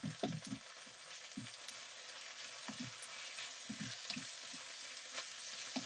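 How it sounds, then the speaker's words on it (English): Kway teow pad thai noodles and egg stir-fried in a hot pan, with a steady close sizzle and frying hiss broken by repeated soft scraping and tossing of the spatula. "So stir frying it in."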